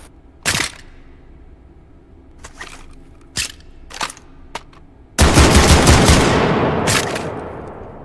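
Shotgun fire with Frag 12 rounds in a video game: a few sharp separate blasts and clicks, then a loud sustained burst of explosive noise that slowly fades, with no talking.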